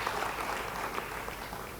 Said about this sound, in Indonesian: Yang mau beri tepuk tangan yang baik bagi dia